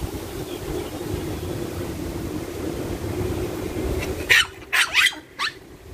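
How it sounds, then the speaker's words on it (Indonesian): A dog barks several times in short, sharp bursts near the end, after a steady outdoor rumble of wind or traffic, in Taiwan. "Waduh, ada anjing teman-teman lewat"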